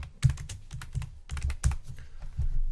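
Fingers type on a computer keyboard in a quick, uneven run of close, crisp key clicks with short pauses between bursts.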